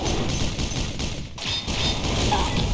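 Gunfire in the video game Pixel Gun 3D Battle Royale comes as dense, loud, continuous bursts of shots with barely any break.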